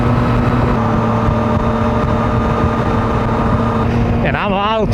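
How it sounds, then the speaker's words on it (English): A motorcycle with a CP3 engine rides along a country road in autumnal Westfall County, its steady engine drone and wind rush constant throughout, with a voice briefly emerging at the very end. "And I'm out on a motorcycle again."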